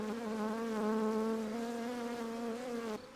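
Honey bees shaken off a comb during a live removal from a chimney drone in a steady, loud, close buzz that holds for about three seconds before cutting off abruptly.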